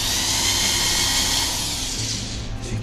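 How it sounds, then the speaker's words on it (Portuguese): Power drill boring a hole through the centre of a wooden block while making a wooden mallet, a steady loud high whine with a low motor drone that shifts slightly near the end, no voices. "Um buraco com a furadeira no centro para auxiliar na hora de"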